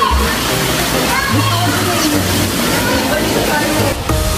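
Sea water washing at a beach resort in Ilijan, Batangas, a loud continuous sloshing wash with wind-like roar, close and steady throughout.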